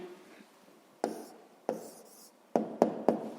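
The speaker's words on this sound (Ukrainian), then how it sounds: "Ну що ж, записуємо відповідь." Pen writing down an answer to a fifth-grade math problem on paper, a few short scratchy strokes in uneven bursts, close and quiet, with faint murmuring early on.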